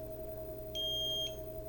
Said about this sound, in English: You heard the beep. Cruise control has been activated.